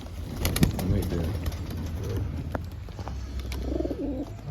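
Racing pigeon, a dark check, cooing softly in a loft with steady background noise and faint rustling; a few low rolling coos repeat across the moment.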